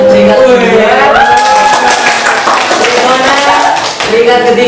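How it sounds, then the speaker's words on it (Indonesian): Classroom clapping for ranked winners, light scattered claps mixed under loud overlapping voices and chatter throughout the short stretch. "beri tepuk tangan"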